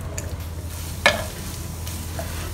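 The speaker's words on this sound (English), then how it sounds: "We're just going to slow fry this until it becomes fragrant." Aromatics slow-fry on low heat in a pan for KL pan mee, a soft steady sizzle with one sharp scrape of a spatula stirring midway.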